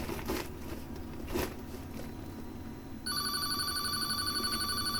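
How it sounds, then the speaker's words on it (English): A home landline telephone starts ringing partway through with a steady electronic ringtone, loud and close, after a few seconds of quiet room noise and faint rustling. "that phone never rings unless I'm making a video, seriously"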